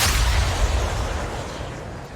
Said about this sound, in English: At 42 we have the Kablooey Gold Explosion